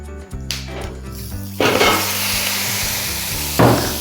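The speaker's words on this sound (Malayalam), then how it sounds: "നമ്മുടെ മാങ്ങ നമുക്കിതിലേക്ക് ഒന്ന് ഇട്ട് കൊടുക്കാം" Ripe country mango pieces tipped into a hot pan for Kerala-style mambazham varattiyath, with a sudden burst of sizzling frying and scraping stirring that settles into a steady hiss, then another brief clatter near the end, with no talk.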